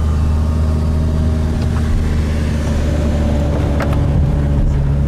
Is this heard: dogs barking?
no